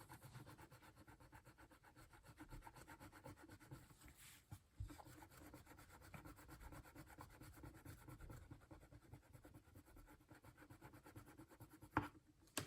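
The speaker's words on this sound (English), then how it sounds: "I still find the eraser, while it's slow and steady, leads to the best overall results" Quiet, steady rubbing and scraping close by as an eraser pen works on a comic book, a slow repetitive friction sound with a couple of small clicks and no voices.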